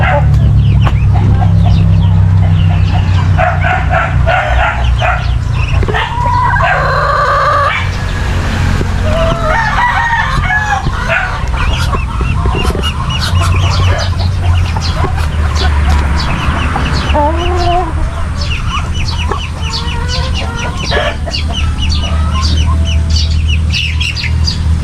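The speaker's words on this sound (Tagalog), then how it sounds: "Dami kang inahin dyan" Black Australorp chickens in a backyard farm, with loud close clucking, cackling and a rooster crowing against a constant low rumble of background noise throughout.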